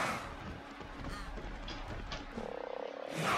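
Frog creature croaking in the video game Ark Survival Evolved, a run of rapid rattling croaks toward the end over steady game ambience and footsteps, with people talking.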